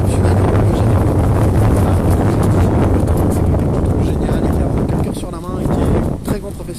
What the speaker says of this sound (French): ce petit moment de vent, de tempête, un peu légère tempête, de mer un peu démontée